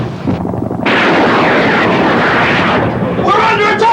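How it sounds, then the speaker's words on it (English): Soviet helicopters attack with loud rotor and engine roar and bursts of gunfire and blasts crowding close in a dense, continuous din, with shouting voices mixed in. "Soviet helicopters are shooting up the area!"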